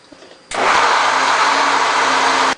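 A kitchen blender purées cooked beans left with plenty of broth, starting abruptly and running at a loud, steady whir for about two seconds before cutting off.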